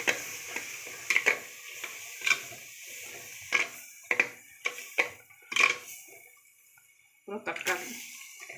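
Scattered scrapes and clinks of a spoon stirring fish curry in a clay pot, irregular and fairly close, with quiet gaps between strokes.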